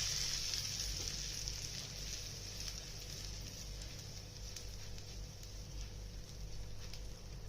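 A tadka of tempering sizzles over freshly steamed jowar dhokla, a steady soft hiss and crackle of hot oil running unbroken and fairly quiet throughout, with no talking.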